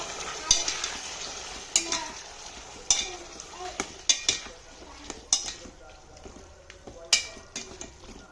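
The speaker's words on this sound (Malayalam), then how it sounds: "നന്നായിട്ട് തന്നെ ഇളക്കി കൊടുക്കാം" Coconut beef roast stirred in a pan: repeated sharp scrapes and clinks of a utensil against metal recur every second or so over a soft ongoing sizzle, close and clear.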